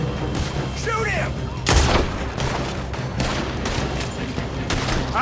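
Loud gunfight in the video game Red Dead Redemption 2, several sharp gunshots cracking one after another amid battle noise, with shouted voices mixed in.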